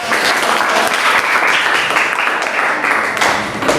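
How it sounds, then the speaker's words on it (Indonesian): Classroom applause in a physics lesson, a steady burst of clapping from a group of students that stays dense and fairly loud throughout. "Tepuk tangan dulu."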